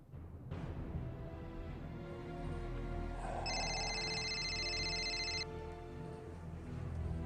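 A telephone rings in a tense domestic crime drama: an electronic ringtone with steady, evenly pulsed tones, clear and fairly loud over a low background hum, cutting off before the call is answered.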